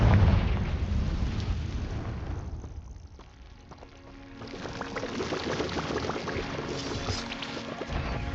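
A Confringo fire spell explodes in the video game Hogwarts Legacy: a loud initial blast that rolls into a rumbling, crackling tail, dips briefly, then swells again with scattered crackles and pops.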